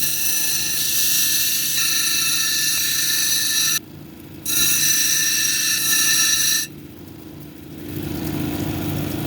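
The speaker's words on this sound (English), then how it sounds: "I'm going to go back on the 80 grit, and we're going to grind this edge down a little bit" A lapidary grinding wheel with 80 grit works the edge of a picture jasper cabochon, producing a steady loud whine with high tonal harmonics that drops out briefly and returns, then gives way to a rougher grinding hum.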